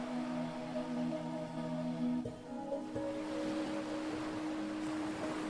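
Steady, soft wash of ocean waves at night, a low continuous rumble and hiss with gentle surges and no voices.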